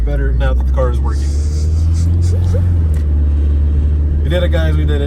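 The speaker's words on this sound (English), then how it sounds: "Oh man, I feel so much better now that the car is working." A car engine runs after a repair with a loud, steady low rumble and a few rising revs. Voices talk excitedly over it throughout.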